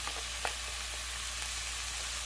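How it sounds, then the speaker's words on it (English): Diced onions, carrots and celery sizzle steadily in a pan, a soft continuous frying hiss with a few faint stirring clicks, close and alone without talk. "our onions and carrots and celery have been cooking for 2 minutes now"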